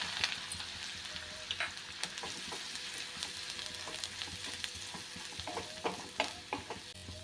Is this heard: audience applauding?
no